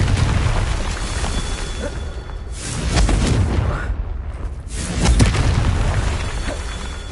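A Confringo blasting curse in a video game, heard as a sustained rumbling boom with dense low roar that swells and fades in waves, loud and close, with no talking.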